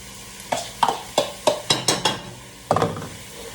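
Turkey meat frying with browned onions as a utensil stirs it: a run of sharp scraping strokes in an uneven rhythm, close and fairly loud over a faint sizzle.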